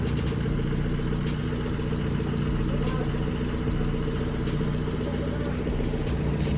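An owner-type jeep engine idles with a steady low hum and faint clatter, constant and close, with no voices.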